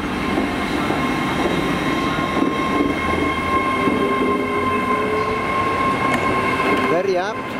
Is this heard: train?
yes